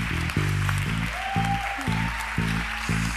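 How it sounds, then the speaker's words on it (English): Audience applause in a hall for a Google presenter coming on stage at a women-in-tech awards event, steady broadband clapping running under loud low piano-like musical chords throughout. "So give her an applause."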